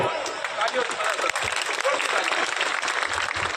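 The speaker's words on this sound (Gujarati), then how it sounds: "અને તાળીઓથી વધાવો." Audience applause at a mass wedding ceremony held by a Kshatriya youth organization: steady, dense clapping from a large crowd fills the whole stretch without pause, close and moderately loud.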